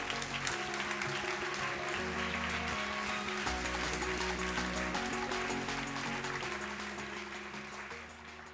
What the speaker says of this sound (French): Sous vos applaudissements nourris.